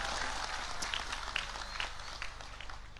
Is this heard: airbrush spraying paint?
no